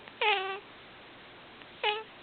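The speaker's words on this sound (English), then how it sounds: "And on his farm he had a cat." A cat meows twice, clear and close, with a short pause between the two cries and no talking.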